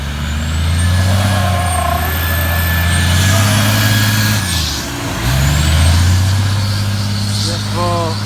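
Fire department truck and new fire engine at a box alarm scene, a loud steady diesel rumble with air brake hiss, shifting engine tones and a brief dip midway, with voices in the background.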